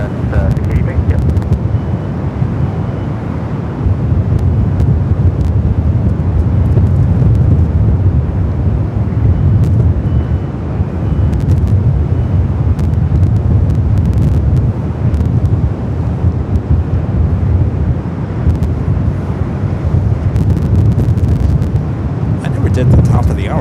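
Gusty wind at Los Angeles airport roars steadily and loudly across a microphone, a deep rumbling buffet that swells and eases without pause, with faint distant traffic and aircraft noise beneath it.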